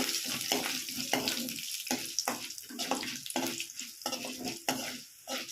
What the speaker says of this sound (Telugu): ఆనియన్స్ వేసుకొని కొంచెం కరివేపాకు వేసుకొని ఫ్రై చేసుకొని